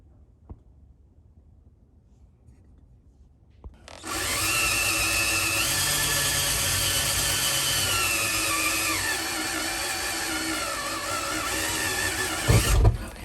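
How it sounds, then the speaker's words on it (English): A power drill starts after near silence and whirs loudly and steadily for about nine seconds, drilling a hole in metal to mount a bracket, its pitch sagging slightly as it bites in, then stops. "I'm going to go ahead and drill and tap a hole to mount that bracket over here."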